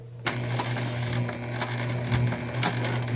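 A sewing machine with a zipper foot stitches a shoulder bag, its motor humming loudly and continuously with rapid mechanical clatter and a few brief sharp clicks and knocks.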